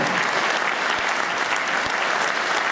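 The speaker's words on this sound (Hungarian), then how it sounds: "Nagyon nagy tapsot a két világbajnoknak, Gergely Gábor és Jónyer István." Loud, dense audience applause for two table tennis world champions at a gala, continuous clapping from a large crowd filling the whole stretch without talk.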